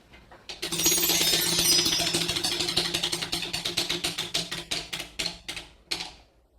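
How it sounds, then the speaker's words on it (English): A game show prize wheel spins with a rapid ratcheting clatter from its pointer, clicks spreading out and slowing steadily until the wheel stops after about six seconds. "it's your turn to spin the wheel"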